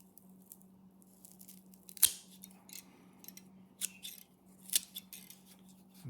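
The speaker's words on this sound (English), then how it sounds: "These guys here, I'm going to cut right in where that notch is." Blade snips into dahlia garden tubers at the notch, a few sharp isolated cuts with quiet pauses between, close and moderately soft.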